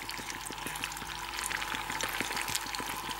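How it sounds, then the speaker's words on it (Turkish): Tomato and pepper paste frying in oil in a pan, a steady crackling sizzle with soft bubbling spits, close and continuous with no talking. "Salçayı yağ ile birlikte güzelce kavuruyorum."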